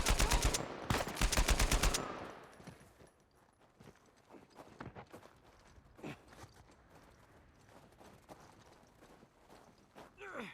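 Sniper gunfire in Uncharted 4: A Thief's End, a loud cluster of sharp rapid shots in the first two seconds, followed by quieter scattered footsteps and movement, with brief voices calling out under the action.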